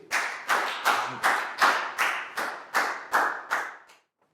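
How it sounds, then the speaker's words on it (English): A small classroom group claps in a brief round of applause, about ten even bursts of clapping in a steady rhythm, close and moderately loud, stopping abruptly after about four seconds. "a big round of applause for Chu"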